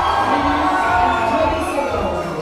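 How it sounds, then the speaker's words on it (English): An audience cheers on a climber at a women's lead final of the 2022 Arkose international climbing competition, a loud, continuous mass of voices. "the crowd just cheered her on"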